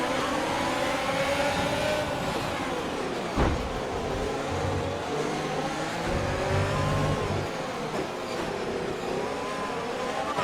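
An F1 2020 race car in the video game revs through its gears at the Singapore Grand Prix, a loud continuous engine whine rising and dropping with each shift and no talk over it.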